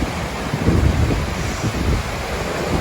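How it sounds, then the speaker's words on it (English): Low Force, a series of waterfalls carrying peat-brown water after heavy rain, gives off a steady broadband roar, buffeted by wind on the microphone. "It is a series of waterfalls, and it's quite spectacular, especially after a lot of rain."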